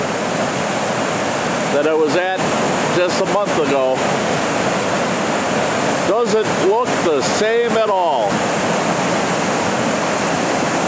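Foster Falls waterfall roaring in full flow, a steady loud rush of water filling the whole clip, with someone talking over it in short bursts.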